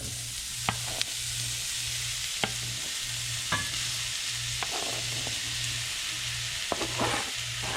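Chopped ingredients sizzle steadily in a skillet while being stirred for a pasta dish. Occasional clicks and scrapes of a utensil against the pan cut through the constant hiss, with a faint pulsing hum beneath and no talking.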